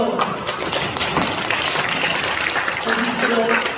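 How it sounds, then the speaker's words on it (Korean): A crowd applauding, dense continuous clapping filling the space, with some voices mixed in. "박수!"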